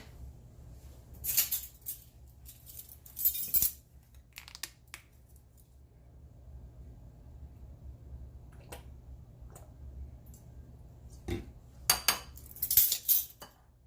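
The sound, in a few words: mixing ingredients together with a spoon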